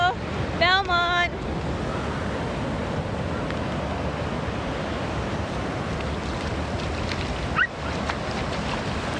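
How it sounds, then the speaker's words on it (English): High ocean waves break and wash continuously onto the beach at Belmont, San Diego, a loud, steady roar with wind buffeting the microphone and a brief high-pitched voice-like whistle near the start. "See how close the waves are? They're really high."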